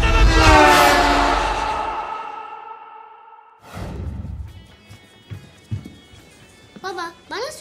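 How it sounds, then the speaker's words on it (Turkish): A loud, sustained horn blares for a couple of seconds and fades, followed by a thud, shuffling sounds and an agitated voice. "Korna çalıyorum! Korna ne demek?"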